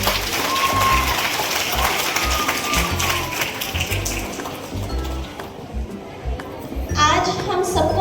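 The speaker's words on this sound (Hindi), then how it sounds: "अपने लिए तालियां एक बार बहुत जोर से।" Students at Renu Vidya Mandir, many of them with disabilities, clap loudly at a 78th birthday celebration. The applause is dense and continuous, with voices mixed in, and it thins out near the end.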